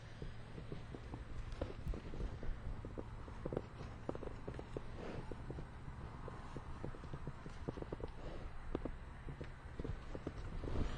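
A horse's hooves clip-clop steadily as it walks, close by with a faint background hum, no speech.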